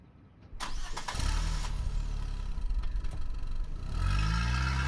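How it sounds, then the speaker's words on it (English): After a brief quiet moment, a convertible car's engine cranks and catches, then settles into a steady idle with a final swell of revving, heard close and fairly loud with no one speaking. "That's Brian's convertible."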